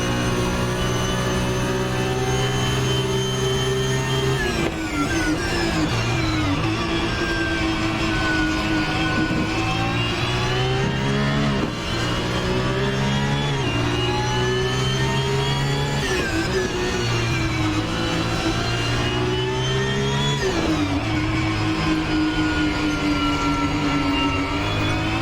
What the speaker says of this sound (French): je suis vraiment pas fan de ce son du moteur